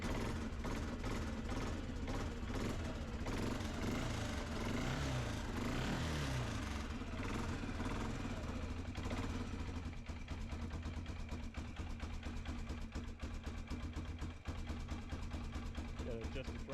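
A 2004 Arctic Cat 400 4x4 ATV engine cranks and catches, then runs steadily and loudly nearby, its idle rough at first before settling into an even drone, with people talking over it.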